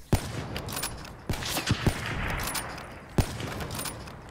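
Sharp gunshots in a video game, a handful of single cracks spaced apart, moderately loud over a low background hum with no talk.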